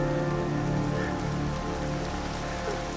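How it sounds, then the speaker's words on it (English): Steady rain patters on a surface, a dense, even hiss with no voices. "The rain begins to let up."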